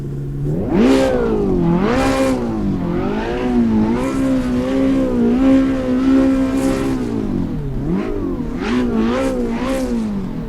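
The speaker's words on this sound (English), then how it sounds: "Let's get this Ferrari 488 Challenge Evo fired up." A Ferrari 488 Challenge Evo race car at Monza in Assetto Corsa Competizione fires up, its engine revving loudly up and down in several rising and falling blips before settling into a steady idle, then revving again.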